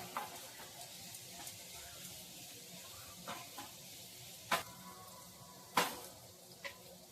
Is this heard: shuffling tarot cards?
no